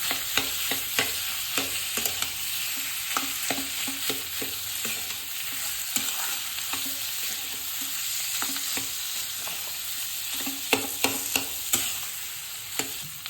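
Cut potatoes and other vegetables fry in a pan while a spoon stirs them, making a steady sizzle broken by frequent scraping and tapping strokes at an uneven rhythm, close and fairly loud.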